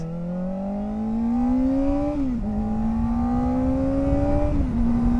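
A Kawasaki sport bike, a ZX-4RR, runs steadily while being ridden. Its engine note is a smooth, continuous hum that climbs slowly in pitch, dips briefly at each shift and then rises again, loud and close throughout.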